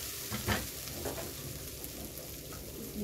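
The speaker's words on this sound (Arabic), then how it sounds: "ننزل عليه بقى بميه سخنه" Hot water is poured over spiced rice for koshari in a pot, producing a soft, continuous hissing and sizzling wash with a few brighter splashy surges, heard close and fairly quietly without speech.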